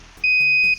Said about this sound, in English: stopped beeping